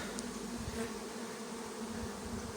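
Honey bees buzz steadily at a hive entrance as they bring in pollen, a continuous close-up drone with a low hum sustained throughout, no voices.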